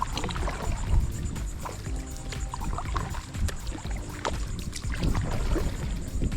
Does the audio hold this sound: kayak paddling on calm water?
yes